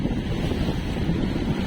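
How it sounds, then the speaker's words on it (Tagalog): Wind and rough 5-to-6-foot waves at sea, heard from aboard a fishing boat heading offshore: a steady, loud, low roar of wind buffeting and water rushing, continuous with no voices. "Yan, mga ganyang alon, nasa mga 5 to 6 feet yan."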